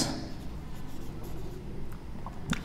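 Pen writing a sentence on paper during a class lesson, soft continuous scratching strokes close up at a quiet level, with a small tap near the end.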